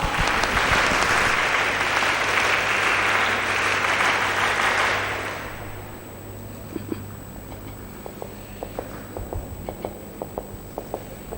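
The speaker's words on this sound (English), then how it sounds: "Please give a round of applause." Audience applause at a college festival inauguration, a loud sustained clapping crowd for about five seconds that then fades out, leaving a few scattered claps and small knocks in a quiet hall.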